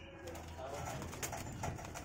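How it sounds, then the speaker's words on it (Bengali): A pair of adult high-flyer pigeons coo softly in short, low murmuring calls, mixed with a voice talking nearby. "দেখুন এই এক জোড়া ধাড়ি পায়রা"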